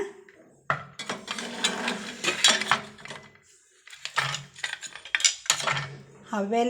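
Sweet kadubu dumplings being set into a metal idli cooker: repeated close, bright clinks and scrapes of metal plates and pieces, in irregular bursts with short pauses, no talking.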